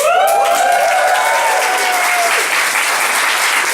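Applause and cheering from a freshers' week stand-up comedy audience fill the room, a dense, loud wash of clapping with a whoop or two near the start, steady throughout.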